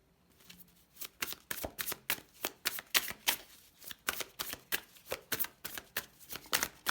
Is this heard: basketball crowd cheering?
no